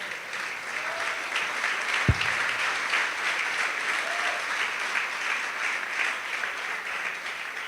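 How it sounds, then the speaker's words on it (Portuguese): A church congregation claps in praise to the Lord, a steady wash of many hands sustained throughout, with one sharp thump early on. "Então, pode aplaudir ao Senhor."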